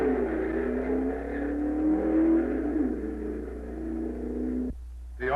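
A prize-winning B-Hot Roadster hot rod, Arden-powered, at the 1956 NHRA National Championship Drags in Kansas City, holds a loud, steady engine rumble and whir that rises slightly, then cuts off abruptly near the end.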